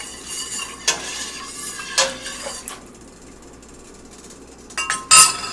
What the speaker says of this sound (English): let's give that a little stir